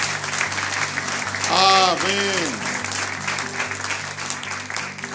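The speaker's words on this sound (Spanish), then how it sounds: "Le damos un aplauso por los" A church congregation applauds during a Spanish-language service, steady clapping over sustained keyboard music, with a sung or spoken amen rising briefly over the noise.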